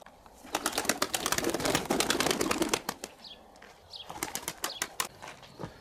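Racing pigeons flap their wings in a rapid burst of sharp, loud wing claps, then pause briefly before a second, quieter flurry of flapping, with no voices.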